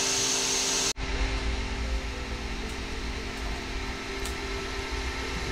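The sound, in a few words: Creality Ender 3 V3 SE 3D printer extruding and printing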